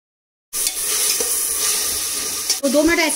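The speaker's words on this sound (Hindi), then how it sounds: "अब इसमें मैं टमाटर और हरी मिर्च साथ में डाल देती हूँ, इसको भी भून लेते हैं 2 मिनट।" Tomato and green chili hit hot oil with a loud, steady sizzle that holds for nearly three seconds, then a brief stirring clatter and bubbling near the end; no talking.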